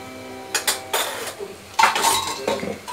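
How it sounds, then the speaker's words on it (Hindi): A ladle scrapes and clinks against the sides of a cooking pot while stirring kadhi, with a few separate knocks early on and then a longer run of metallic scraping and clanking toward the end, all close by and with no voices. "मैं सिर्फ कड़छी हिला रही हूँ।"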